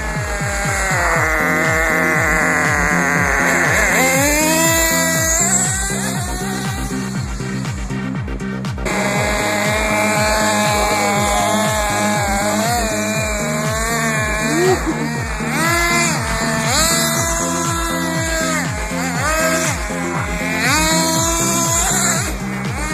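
A nitro-powered RC car engine screams continuously at high pitch, its whine rising and falling as the revs change through the run, loud and close with no talk.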